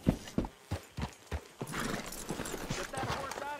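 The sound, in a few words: horse in video game Red Dead Redemption 2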